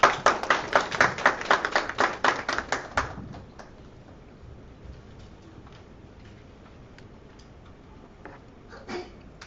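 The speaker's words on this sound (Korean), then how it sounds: "큰 박수 주십시오" An audience at a Korean social enterprise forum applauds a presenter, a burst of clapping for about three seconds that quickly dies away into a quiet room with a few stray taps and faint noises.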